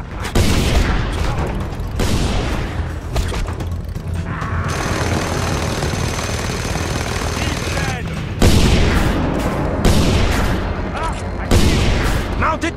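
A mounted gun blasts in loud, rapid bursts during Just Cause 2 combat. Booming gunfire and explosions stop briefly, then resume, with faint in-game voices underneath.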